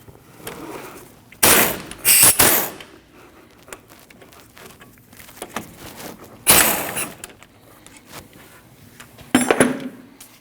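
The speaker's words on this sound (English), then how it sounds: "Once you remove those 2 bolts" Two 14mm brake caliper bolts come loose on a 2003-2008 Subaru Forester front brake, three loud, close bursts of ratcheting and metallic clatter separated by quieter tool handling.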